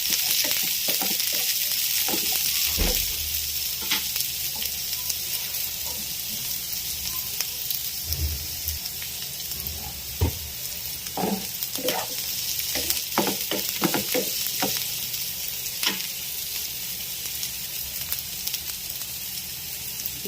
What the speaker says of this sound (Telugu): ముల్లంగి సన్నగా కట్ చేసి పెట్టుకున్నాను తర్వాత పచ్చిమిరపకాయలు కూడా కలిపి వేయించుకుంటున్నాను